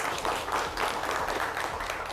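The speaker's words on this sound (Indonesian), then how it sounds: "Tepuk tangan semuanya." Steady clapping from a classroom of students during a lesson, an even wash of many hands at moderate distance with no voices over it.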